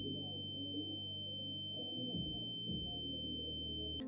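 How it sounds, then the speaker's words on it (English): A steady high-pitched tinnitus ring holds unbroken over muffled, low-end concert music, the music dull and murky underneath while the piercing tone stays constant throughout. "he also developed tinnitus, which made him hear a constant ringing"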